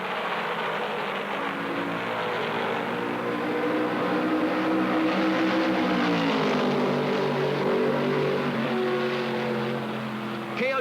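Stock cars with Ford high-performance engines roar steadily around Darlington during the 1968 Southern 500, a loud, continuous engine drone with shifting pitch and no break.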